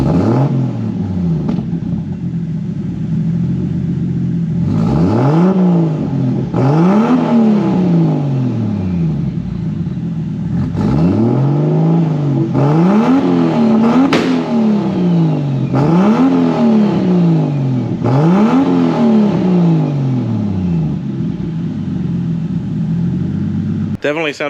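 Toyota Supra with a straight-pipe exhaust and a 5-inch tip muffler, revved repeatedly in a series of sharp rises and falls. It sounds loud and close with a steady rumble between the revs.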